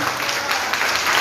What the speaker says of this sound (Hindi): एक बार जोड़ी के लिए जोरदार तालियां होनी चाहिए